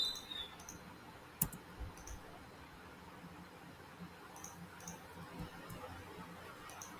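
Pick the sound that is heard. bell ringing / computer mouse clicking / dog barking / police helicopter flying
computer mouse clicking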